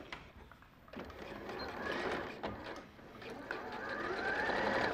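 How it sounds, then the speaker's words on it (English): A sewing machine stitches a one and a half centimetre seam allowance in stretchy fabric, a steady close mechanical whirr of continuous stitching with small speed changes and brief pauses. "So then we'll sew your one and a half centimetre seam allowance"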